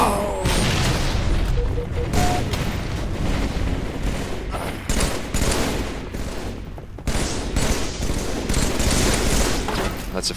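Gunfire in a Halo 3 multiplayer match: continuous loud, dense shooting and explosions fill the whole stretch, with bursts and booms layered over a busy game soundscape.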